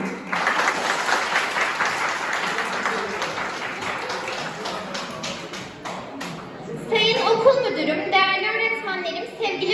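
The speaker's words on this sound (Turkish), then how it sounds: "Alkış bu kadar mı?" Audience applause in a high school hall during a student music performance event, dense clapping that thins and shifts partway through, with a voice speaking over it toward the end.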